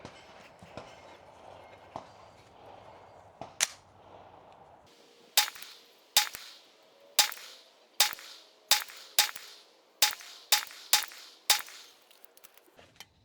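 A 9mm pistol firing CCI Blazer 115 grain ammunition on an outdoor range at distant targets: about ten sharp cracks at fairly regular intervals after an earlier shot or two, each with a short ringing tail, with no voices.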